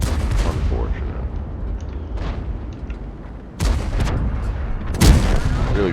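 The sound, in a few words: gunshots in the video game 1390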